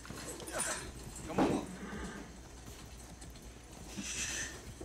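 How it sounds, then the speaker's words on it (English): Video game horse clip-clopping along, with hoof beats spaced through the scene and a short whinny near the start, while a player speaks briefly over the sound. "guess I'm taking a horse."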